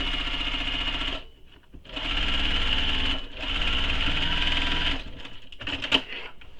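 A sewing machine stitches a convertible tote bag in three long, steady whirring runs, broken by brief pauses, close and loud with no talking.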